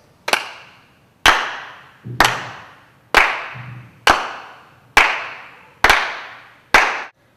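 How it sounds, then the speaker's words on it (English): Eight sharp, loud claps in unison from a group clapping along at a Tai Chi balance talk, spaced roughly a second apart, each with a short ringing room echo and silence between. "I would like everyone to go ahead and clap along with us"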